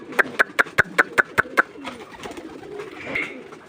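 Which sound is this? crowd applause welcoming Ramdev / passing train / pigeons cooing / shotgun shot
pigeons cooing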